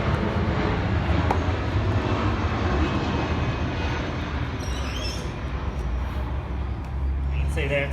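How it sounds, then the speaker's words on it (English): Airplanes from a nearby airbase fly overhead, making a steady, heavy engine rumble throughout. A person talks over it. "Don't mind the planes. So airbase just down the street."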